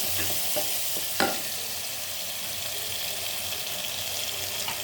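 Ginger garlic paste frying in a pan gives off a steady, close sizzle with a light scrape of stirring early on and a brief clack just after the first second.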